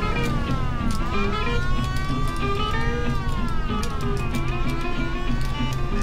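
Car engine droning steadily in the Mafia video game, a continuous mid-pitched hum with shifting tone as it drives along the wrong side of the road, accompanied by game music or siren-like tones throughout.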